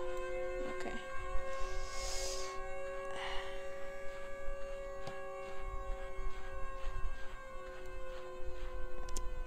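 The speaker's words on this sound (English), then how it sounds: "Oh, and that's the siren." A long, droning siren wail with steady tonal layers sounds from the Siren Head horror video game, moderately loud and sustained, with a few faint knocks and shuffles beneath and no speech.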